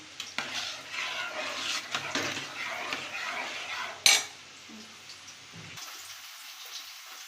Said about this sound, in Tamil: நாட்டு சர்க்கரை இப்போ வந்து மிக்ஸ் பண்ணி விட்டுக்கலாம்